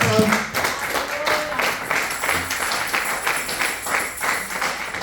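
Church congregation clapping in praise of the Lord at a French-language service, a dense, steady run of rhythmic handclaps from a crowd with voices mixed in.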